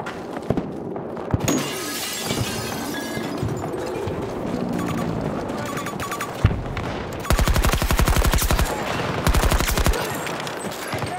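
Gunfire in a Battlefield game crackles with scattered shots and impacts, then erupts into loud, rapid automatic bursts near the end, a chaotic battle mix with no speech heard.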